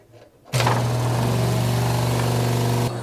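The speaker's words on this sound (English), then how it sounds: "my water pump is broken. It like won't shut off." A broken water pump that won't shut off kicks on abruptly and runs with a steady, loud mechanical hum and buzz, constant until it cuts near the end, with no talk.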